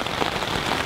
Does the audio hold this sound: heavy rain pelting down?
yes